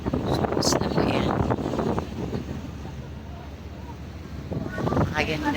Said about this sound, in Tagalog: Pakahangin dito.